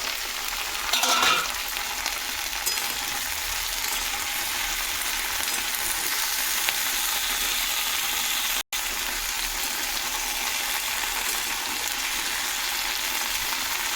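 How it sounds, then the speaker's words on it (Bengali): Okra and potatoes fry together in a pan, giving a steady close sizzle and crackle that runs unbroken, with a short stirring scrape near the start and no voices. "খুব ভালো করে ভাজা ভাজা করে নিতে হবে।"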